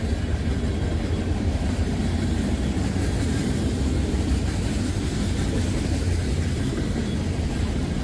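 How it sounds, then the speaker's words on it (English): A loud, steady rumble of a long freight train rolling past close by, continuous grinding and clatter with no break. "And this is a big train."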